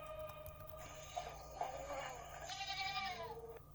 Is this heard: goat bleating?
yes